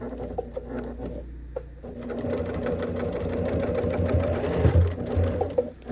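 A sewing machine stitches fabric pieces for a zippered shoe bag, its needle running in a fast, steady mechanical chatter that starts after a brief pause and carries on at close range, with faint talk early on.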